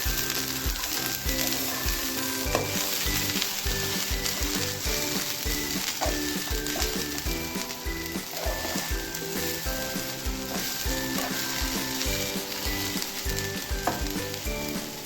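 Cooked beans and banana stem stirred into a hot ground coconut paste for a thoran, with a loud, constant frying sizzle broken by repeated scraping stirs close by.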